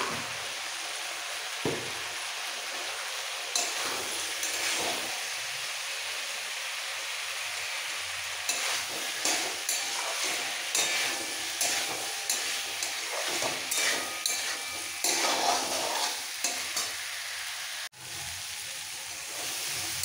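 Mixed vegetables sautéed in a pan with a little sugar, a soft continuous sizzle under repeated scraping and stirring strokes, with occasional clinks of a utensil against the pan.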